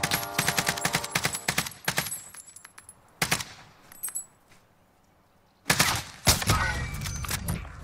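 Rapid bursts of automatic gunfire in a video game, loud clustered volleys separated by short quiet gaps, with a brief voice between bursts.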